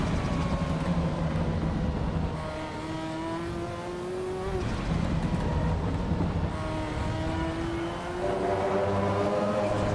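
Race car engine in the video game Assetto Corsa Evo, a loud continuous roar with rising and falling revs through several gear changes, steady and close throughout with no talk.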